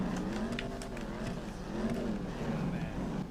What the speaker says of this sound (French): écoutez le bruit du moteur